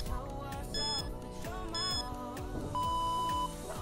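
A workout timer gives a few clear electronic beeps of a steady pitch, with the longest last, over background music during an ab exercise session.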